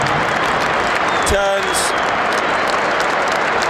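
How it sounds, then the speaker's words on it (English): A football crowd at St James's Park gives a standing ovation as a substituted player leaves the pitch during a Newcastle United match, with steady, dense applause throughout and a commentator talking over it. "Sandro Tonali receives a standing ovation"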